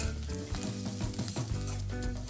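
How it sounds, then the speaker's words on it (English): Slit green chilies and curry leaves frying and being stirred in a pan for Goan ridge gourd and lentil bhaji, a dense steady sizzle with repeated scraping strokes throughout, close and loud, no voices. "Add the curry leaves or curry patta. Stir everything nicely."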